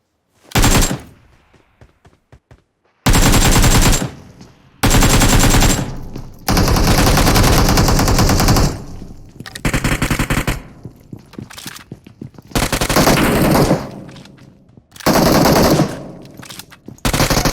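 Gunfire in the mobile battle royale game PUBG Mobile: loud bursts of rapid automatic shots come in several separate volleys with short quiet gaps between them, close and dominant throughout.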